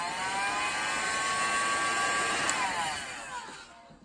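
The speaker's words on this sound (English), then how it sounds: "use a heat gun" A heat gun blows with a steady, loud whirring roar and high whine, used while assembling a DIY powerwall battery management module, then winds down and fades at the end; no talking.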